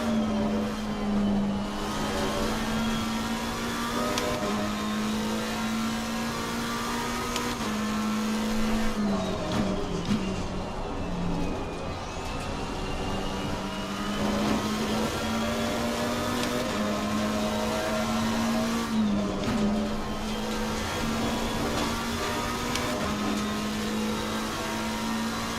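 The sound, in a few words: GT3 race cars at Laguna Seca, Assetto Corsa Competizione video game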